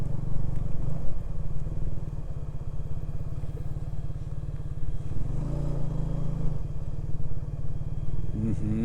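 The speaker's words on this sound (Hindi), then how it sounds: "आगे देखते हैं कहाँ तक बाइक जाती है" A motorcycle chugs along at a low, steady throb over soft, rain-soaked rough ground near Hanna Lake in the mountains of Quetta, Balochistan, with the engine rising briefly midway and a few clattering bumps.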